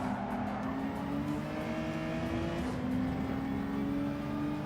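A race car in the video game Gran Turismo 7 holds a steady, sustained engine drone with faint tire squeal mixed in, loud and continuous throughout, with no talking.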